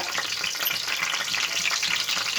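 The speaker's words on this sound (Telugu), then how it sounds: "ఇప్పుడు వేసుకుందాం ఇంకో బిర్యానీ ఆకు" A bay leaf drops into hot oil for a spicy Guntur-style fish curry and crackles with a dense, steady sizzle, close and fairly loud throughout.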